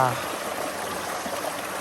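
Waterfall water flowing steadily in a natural setting, a continuous broadband rush that stays even and fairly close throughout.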